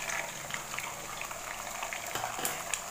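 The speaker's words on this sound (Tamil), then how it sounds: "4 முட்டையை ஊற்றிக்கலாம்." Beaten eggs hit a pan of hot fried onions with a soft, continuous bubbling sizzle. The sound stays fairly quiet and close, with a few light crackles and pops scattered through it.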